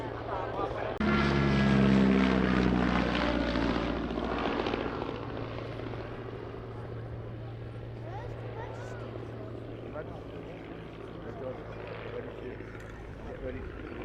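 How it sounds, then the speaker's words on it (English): Vintage First World War era aeroplanes such as an S.E.5a, Avro 504K and Bristol Scout running their propeller engines at a Shuttleworth airshow, a loud droning hum early that settles into a steadier distant drone, with talk over it. "they're just making sure their aeroplanes are working properly"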